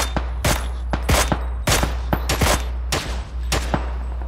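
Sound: gunshot in a video game

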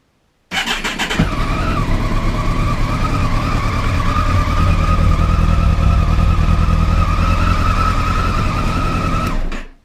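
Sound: motorcycle engine misfiring

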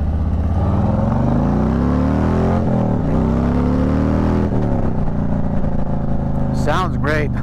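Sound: motorcycle riding on the highway with windscreen

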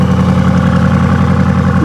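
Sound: car engine exhaust

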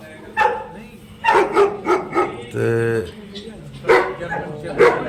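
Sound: dogs barking on a farm

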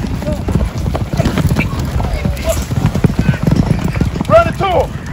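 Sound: horse hooves clip-clopping while being ridden

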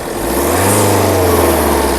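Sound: car engine running

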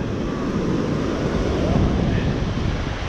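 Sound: ocean waves breaking on a wide beach

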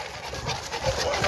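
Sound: Boerboel dogs panting on a night walk

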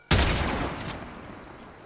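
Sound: gunshot with Primed Chamber mod in video game Warframe

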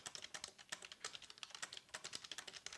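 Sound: near silent typing on Logitech Keys-To-Go Bluetooth keyboard

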